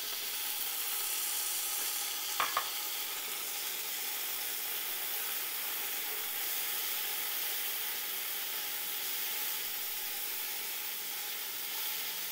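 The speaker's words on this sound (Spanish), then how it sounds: "Vamos a poner aquí mismo a sofreír un poco nuestra zanahoria en cuadritos cruda." Diced raw carrots sauté in a pan with a steady, even sizzle that runs throughout, broken once by a brief clink of a utensil near the start.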